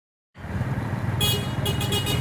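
Car horn honking on a narrow street, starting after a brief silence over a loud engine rumble, with several bright, sharp honks in a row.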